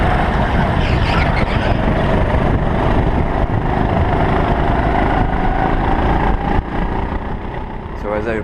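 Rental go-karts at a race start on an outdoor track, with a dense, continuous buzz of several small engines, loud and close throughout and no break in the noise.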